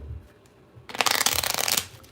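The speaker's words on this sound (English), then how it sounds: "While I shuffle these cards" Tarot cards being shuffled by hand, a dense riffling burst lasting about a second after a quiet start, close and fairly loud.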